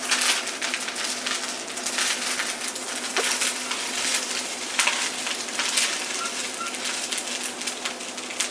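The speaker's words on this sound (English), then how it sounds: "It's loud. it's sizzling." Fried rice with vegetables sizzling steadily in a hot pan, a loud, continuous crackling hiss with scattered sharp pops throughout, close by and with no talking.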